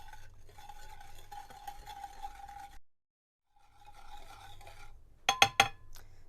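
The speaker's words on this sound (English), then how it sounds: "And now we're just going to whisk this together" Oil and a pinch of salt being whisked together in a bowl for homemade Lotus biscuit cookies, a rapid scratchy whirring with a short pause midway, then a few sharp metallic taps against the bowl rim, close, no talking.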